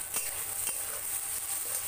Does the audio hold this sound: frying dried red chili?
yes